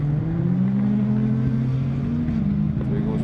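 Rallycross supercars race at Mondello Park, their engines droning and rising in pitch at mid distance under a commentator's continuous talk.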